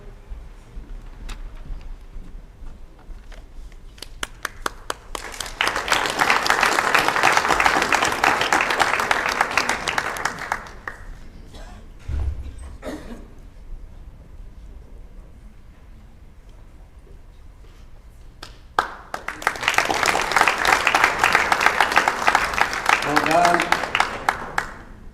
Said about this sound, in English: We give a big, big round of applause to New Eisleben.